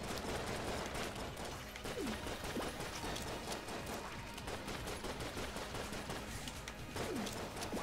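Rapid gunfire from the Gatling Fist gun in the Enter the Gungeon video game, a dense, continuous stream of overlapping shots that stays loud and steady throughout.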